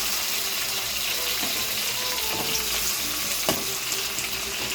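Steady sizzling of tomatoes frying in hot oil, with a few soft stirring clinks and scrapes over the continuous crackle.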